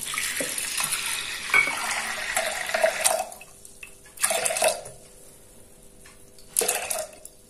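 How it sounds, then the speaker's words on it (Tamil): Water poured into a pressure cooker holding dal, coming as several short splashing gushes with brief pauses, close by and with no talk. "ஸோ இதுக்கு தேவையான அளவு தண்ணி ஊற்றிடலாம்."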